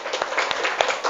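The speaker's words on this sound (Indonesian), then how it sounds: "Tepuk tangan." Brief burst of hand clapping from a classroom group of teachers and students, a dense patter of claps held at an even level for about a second.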